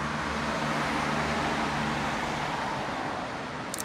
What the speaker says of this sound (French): Je suis désolée si vous entendez les voitures